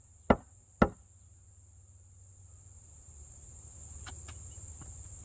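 Two sharp, distinct taps on a landscaping block while laying the first course of a retaining wall, close and crisp, followed by a few fainter knocks against a steady insect-like hiss.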